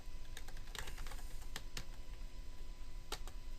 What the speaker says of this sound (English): So you type slot build